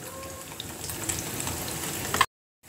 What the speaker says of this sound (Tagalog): Mantika ay matalansik